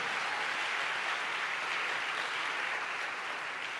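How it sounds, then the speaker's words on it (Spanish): A church congregation claps together in praise for the King of Kings, a dense, even wash of applause holding steady throughout without any voices. "Si le va a aplaudir, apláudale fuerte al Rey de Reyes."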